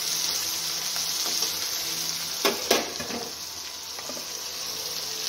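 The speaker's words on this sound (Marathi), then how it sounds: "आपल्याला कांदा जास्त शिजू द्यायचा नाही, हा अर्धा कच्चाच ठेवायचा आहे आणि मोठ्या गॅसवरच आपल्याला परतायचं आहे" Onion sautéed over a high gas flame for fried rice, giving a steady hiss of sizzling oil with a couple of louder scraping stirs near the middle, close and even, with no speech.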